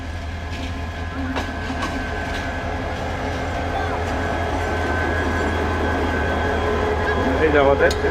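Kishoreganj Express intercity train in Bangladesh, a steady rumble of rail cars with faint clicks and squeals, growing slightly louder toward the end, with voices in the background.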